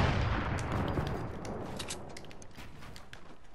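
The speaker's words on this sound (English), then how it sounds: "Why are y'all shooting?" Gunfire in the video game Fortnite comes as a dense burst of booming shots, then continues as scattered, sharper cracks that thin out over a few seconds. The shots are fairly loud and no one speaks over them.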